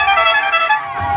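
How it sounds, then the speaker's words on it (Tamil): A jeep's horn honks in one loud, sustained blast of a little over a second on a hill-country ride in Vagamon, alone and close with no talk over it. "ஹார்ன் அடிங்க"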